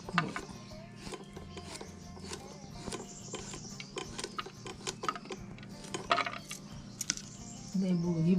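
Forest mushroom stems chopped by hand into small pieces, a quick irregular series of faint knife taps and clicks on a cutting surface, close, with a voice speaking softly at times.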